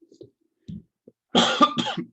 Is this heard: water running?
no